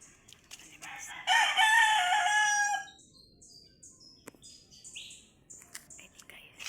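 A rooster crows once, loud and close, in a rural province yard with other animals kept nearby, followed by faint bird chirps and quiet background.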